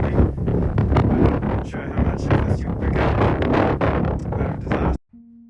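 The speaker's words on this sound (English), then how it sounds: "It's really windy up here." Strong wind gusting across an exposed hilltop track near Mount Vernon, buffeting the microphone in loud, broadband roaring bursts for about five seconds before cutting out abruptly.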